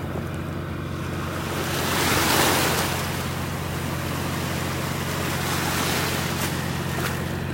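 Ocean surf on a beach in North Naples, Florida: a continuous wash of waves rolling in and out with a swell near the middle, steady wind rush over the microphone, no voices.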